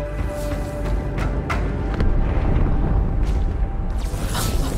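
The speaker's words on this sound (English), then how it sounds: "That explosion came from inside the Athens." A deep explosion rumbles aboard the ship Athens in the Halo 2 video game, a heavy low boom with several sharp bursts layered over sustained game noise.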